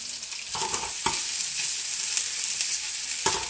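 Chicken pieces for a poultry salad cooking in a pan, a steady soft frying hiss with a few brief stirring scrapes and clatters, close and fairly quiet, with no talking.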